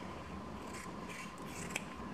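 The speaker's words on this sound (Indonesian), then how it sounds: "kita akan mulai untuk menggunting upper nih, bagian depannya dulu" Scissors cut the upper of a high-heel sandal in a shoemaking workshop, a soft, continuous close-up rasping and snipping with one sharper click near the end.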